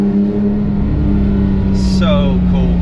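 A Porsche engine holds a loud, steady drone at close range, with its tone barely changing. A person's voice cuts in over the engine near the end.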